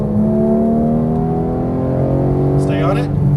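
A Porsche 911 GT3 (991) pulls hard around a track, its engine tone rising steadily in a loud, close drone heard from inside the car, with a voice speaking over it near the end.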